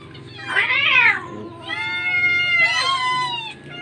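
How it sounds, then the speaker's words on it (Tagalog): Cats meow loudly up close, a few drawn-out overlapping cries in a row, with a low background hum. "Ayan, dami mga pusa guys oh."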